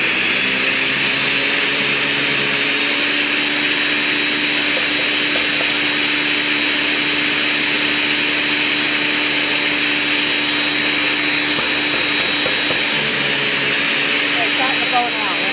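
A blender grinds cashews into cashew butter, its motor a loud, steady high-pitched whine and roar running without pause, with slight grinding texture shifting underneath.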